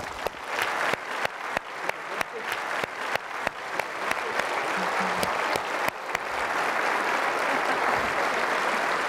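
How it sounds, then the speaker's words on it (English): A dinner audience claps for award winners in a hall, steady dense applause building and sustained throughout, loud and close, with a few sharper individual claps standing out early on. "Please join me now in a round of applause for all our award winners."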